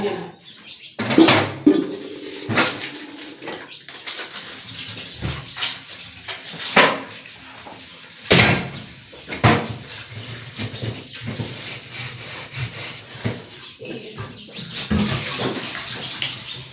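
Dishes washed by hand under cold running tap water in a home kitchen, with irregular clinks and clatters of pots and utensils over a continuous splashing stream, close and fairly loud, no talking.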